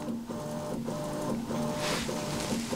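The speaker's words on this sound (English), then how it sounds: "now it's calibrating the Y. It's moving diagonally to do this." Prusa XL 3D printer calibrating its Y axis with diagonal moves, a steady whirring motor hum in a repeating pulsing pattern of tones, close and alone without talk.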